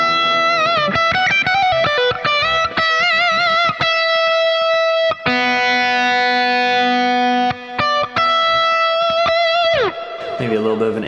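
Donner DST-100T Strat-style electric guitar played through the Neural DSP Archetype Pliny amp plugin: loud, driven, effect-laden prog-style chords and sustained ringing notes, with a long held chord that bends down before closing on a scrape.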